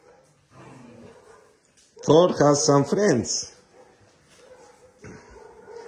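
Dogs awaiting adoption, a German Shepherd among them, burst into a run of close, high yips and whimpering barks for about a second. A person talks softly before and after.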